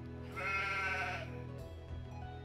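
Sheep in the medieval village-building game Townsmen, one drawn-out bleat rising clearly over a low steady hum, then a brief quieter bleat near the end.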